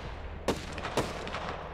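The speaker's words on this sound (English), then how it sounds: "Airstrike coming in." Two sharp booming blasts from an airstrike in Apex Legends, about half a second apart, followed by fainter rumbling impacts over a low background hum, with no talk.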